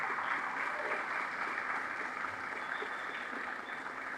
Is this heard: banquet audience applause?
yes